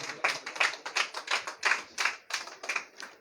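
A church congregation claps in rhythm during worship, a quick, even run of sharp handclaps, about three per second, with no talking.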